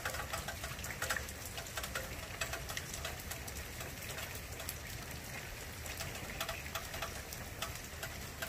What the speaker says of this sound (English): This is rain now, it seems like.